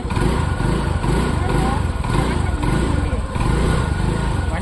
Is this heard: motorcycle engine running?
yes